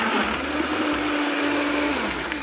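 A blender whirs steadily as it purees pineapple with coconut water, a loud continuous motor drone with a slight pitch shift near the end, and no talk over it.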